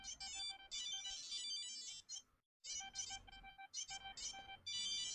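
A phone gives off a repeated electronic ringtone of bright, rapid beeping tones in bursts, broken by short silent gaps, fairly faint and without talk over it.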